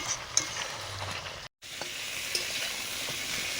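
Pointed gourd pieces frying together in hot oil in a pan, giving a steady close sizzle with light stirring clatter and a brief dropout midway.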